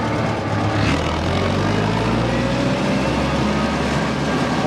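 An Allis Chalmers Model D tractor engine idles in fourth low, a steady close low rumble with even mechanical texture and no talk.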